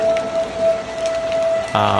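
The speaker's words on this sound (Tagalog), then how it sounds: "magdamag pa namang umuulan dito sa lugar namin" Steady overnight rain patters in a dense hiss, with a faint sustained tone running beneath and a brief buzzing burst near the end.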